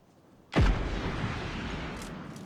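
A single heavy RPG rocket blast in PUBG Mobile Lite, a sudden loud boom followed by a long rumbling decay, with no talk over it.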